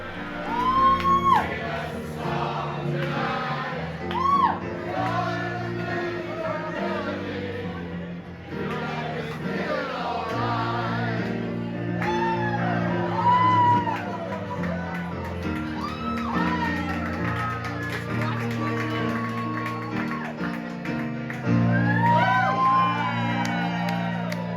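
Crowd at a dueling piano bar whooping and shouting over live piano and singing, rowdy cheers rising and falling throughout.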